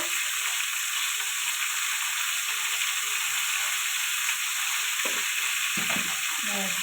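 Cauliflower with turmeric and salt fries in hot oil, giving a constant loud hiss, with a few clattering stirs and pan knocks toward the end.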